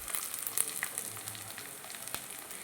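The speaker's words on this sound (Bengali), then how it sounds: "দেখুন আমার পেঁয়াজ ভাজা ভাজা হয়ে গেছে।" Onions, cumin paste and ginger frying together in a pan make a soft, even sizzle with light crackles, fairly quiet and brief.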